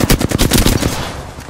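Automatic gunfire in the video game Apex Legends: a loud, rapid burst of shots close up, fading into a short echoing tail.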